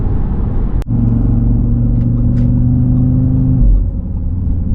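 An Audi RSQ3 with a Stage 1 Revo remap making about 460 bhp accelerates along a road, its loud, steady engine drone heard from inside the car, with the pitch dropping near the end as if at a gear change.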